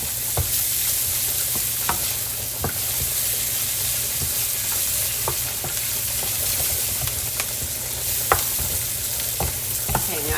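Guanciale and onions fry over medium heat in a pan, giving a constant close sizzle and hiss broken by regular scraping taps as they are stirred.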